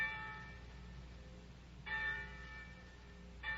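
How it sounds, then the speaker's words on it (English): Church bells clang in the distance, two clear strikes ringing out with lingering metallic tones over a low, steady background rumble. "the winds carried you the clanging of the church bells"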